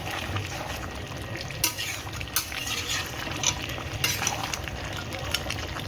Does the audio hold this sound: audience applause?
no